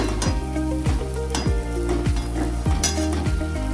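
Scrambled eggs sizzle in a hot pan while a utensil scrapes and stirs in regular strokes, with occasional metallic clinks against the pan.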